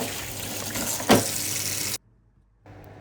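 Tap water runs steadily into a kitchen sink while utensils are washed, with a brief louder splash midway, then the flow cuts off abruptly and a faint trickle returns near the end.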